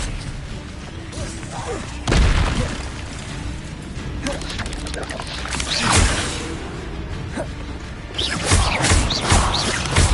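Spells cast in the Hogwarts Legacy video game burst out as booming impacts, crashes and whooshing magical blasts, several loud hits spread unevenly through the clip over a continuous game soundscape.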